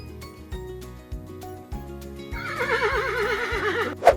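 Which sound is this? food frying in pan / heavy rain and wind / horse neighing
horse neighing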